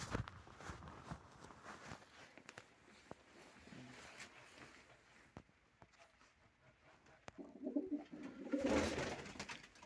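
Doves coo softly nearby, with scattered rustling and footstep-like taps in the background.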